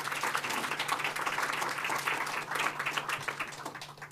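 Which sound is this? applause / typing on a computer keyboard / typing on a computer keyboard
applause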